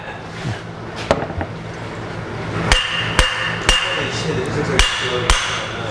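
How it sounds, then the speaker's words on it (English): A hammer strikes metal in sharp, ringing blows as a Subaru VF43 turbo cartridge is knocked apart, a few scattered hits then a quicker series of knocks against a quiet background. "You need to get a hammer and kind of knock it down here on the sides."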